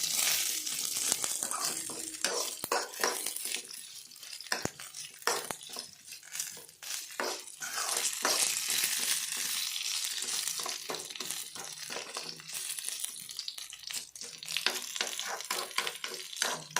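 Mustard seeds, cumin and fenugreek frying in hot oil, a steady crackling sizzle with scattered sharp pops throughout, moderately quiet and with no talking.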